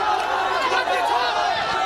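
Dense crowd roar at a Bihar political rally for Priyanka Gandhi, a steady wash of many voices shouting and cheering close by, with no single speaker standing out.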